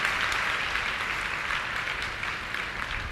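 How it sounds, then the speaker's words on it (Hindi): Church congregation clapping together in thanks at a Hindi-language worship service, a steady, dense wash of applause that holds evenly throughout with no voices on top. "प्रभु का धन्यवाद नहीं करोगे ताली बजाकर?"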